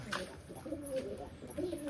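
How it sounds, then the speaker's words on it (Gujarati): Pigeons coo softly nearby, a few low throaty warbling calls overlapping in a quiet setting with no one talking. "કબૂતરને નાસ્તો કરાવું છું"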